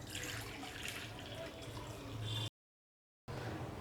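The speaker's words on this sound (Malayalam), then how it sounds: "ഇതൊരു പാത്രം എടുക്കുക, അതിൽ കുറച്ച് വെള്ളം ഒഴിച്ചു കൊടുക്കുക" Water running from a tap into a bowl in a home kitchen while preparing raw banana for frying, a steady close splashing flow that stops abruptly partway, then resumes briefly.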